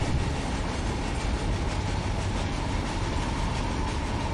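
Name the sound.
BNSF train running in Run 8 Train Simulator video game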